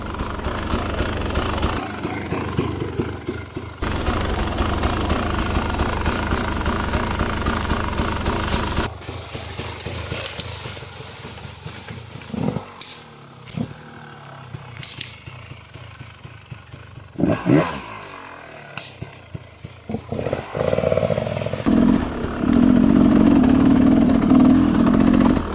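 An enduro motorcycle engine roars loudly and steadily, drops back to a rougher, uneven running with short blips, then surges again into a loud, sustained rev.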